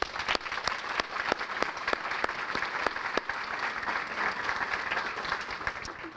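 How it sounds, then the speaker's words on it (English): An audience at a school academic banquet applauds, a steady wash of clapping with distinct sharp claps standing out near the microphone, continuing evenly throughout. "I'd like to ask for your round of applause for all the people who set this evening up."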